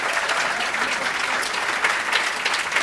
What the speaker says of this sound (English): We want to give our panel a great round of applause.